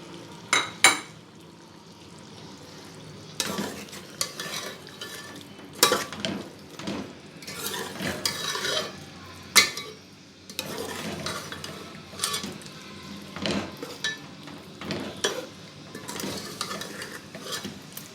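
Masala kaleji (liver) is stirred and fried in a pan, a spoon knocking and scraping against metal in irregular bursts over a soft background sizzle, close and moderately loud.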